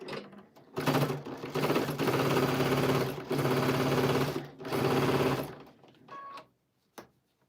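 A sewing machine stitching a fabric basket runs in several loud, close bursts of rapid mechanical whirring separated by short pauses, then ends with a few light clicks.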